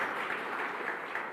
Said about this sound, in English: Ladies and gentlemen, please give Mondli another clap.